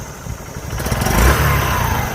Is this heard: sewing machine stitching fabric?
no